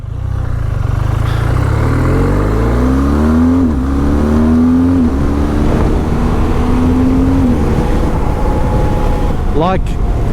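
A BMW R 12 G/S motorcycle engine pulls loud and close while riding, its pitch climbing through several gear changes with steady wind rush throughout.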